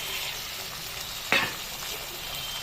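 Mushrooms fry in a pan for masala mushroom with a steady close sizzle, a sharp scrape of stirring near the middle and another clink at the very end.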